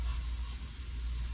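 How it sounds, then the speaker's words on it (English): Aerosol foot spray sprayed onto the face of a golf driver, one steady close hiss held throughout without a break, heard alone. "you can bring some foot spray,"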